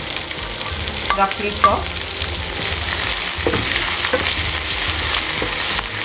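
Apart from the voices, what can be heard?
sliced onion, ginger and garlic frying in pan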